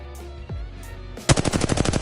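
Rapid automatic gunfire from the video game Apex Legends during recoil practice, a fast, evenly spaced burst of loud sharp shots that starts abruptly after a couple of soft clicks and keeps firing to the end.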